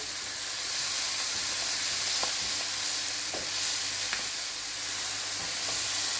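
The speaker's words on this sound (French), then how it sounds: "Je vais faire cuire l'oignon et l'ail et le persil." Chopped onion, garlic and parsley frying in a pan over lowered gas, a soft continuous sizzle with a few scattered clicks of stirring, close and fairly quiet, no talking.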